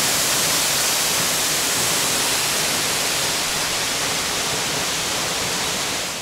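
A waterfall in Germany in winter gives a constant, loud, broadband rushing roar with no pauses, close by and alone without voices.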